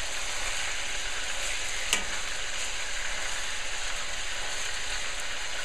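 Steak pieces browning in a hot frying pan give a steady, loud, close sizzle that runs without break, with one faint tap partway through.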